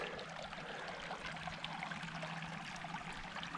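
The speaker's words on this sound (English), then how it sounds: "this here is Fish Creek entering Lake McDonald" Fish Creek flowing into Lake McDonald in Glacier National Park, a soft, continuous trickle and wash of moving water heard at a moderate distance, with a brief louder bump at the very end.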